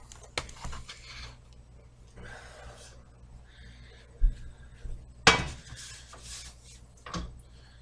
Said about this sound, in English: one of the instructions was to put the skillet on the stove